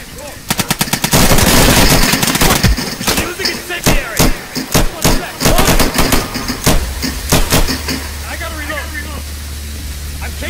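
Gunfire from the video game Insurgency: rapid automatic bursts and single loud shots crackle close in the first half, then thin into scattered sharp reports over a low hum while excited voices shout in the background.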